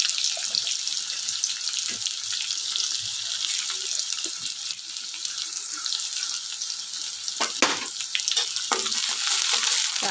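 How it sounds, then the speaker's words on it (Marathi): Onion and green chillies sizzle and fry in a pan for chapati, a steady hiss with occasional stirring clicks and scrapes, close and continuous without talk. "तर आपण हे परतून घेऊया चांगलं."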